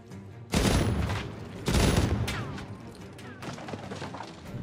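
Bursts of gunfire in the tactical game Jagged Alliance 3, two heavy loud volleys a second apart, then lighter scattered shots and clatter trailing off.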